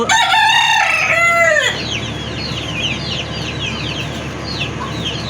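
A rooster crows loudly and close by from a poultry flock of more than fifty chickens. Busy chirps and clucks follow under a constant rustling background, and no voices are heard.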